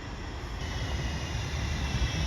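Steady, close rumble and hiss inside a nearly empty train carriage heading to Victoria in London, a continuous rolling drone with no voices.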